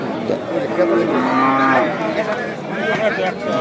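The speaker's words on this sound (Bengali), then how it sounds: "এই যে দেখেন গরুটার খাঁচা দেখা যাচ্ছে" A cow moos loudly and close at a village cattle market of small local breed cattle, one long drawn-out call with a second lower moo following, over a steady background of crowd chatter.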